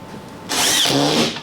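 A screw driven into drywall with a power drill, a short close whirring burst with a rising whine that lasts under a second, after a quiet lead-in with no voices.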